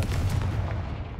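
Confringo blasting spell going off in Hogwarts Legacy, a short booming burst with a deep low-end thump and crackling tail, fairly close and loud, with no talk.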